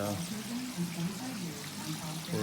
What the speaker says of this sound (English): I'm actually filling the water right now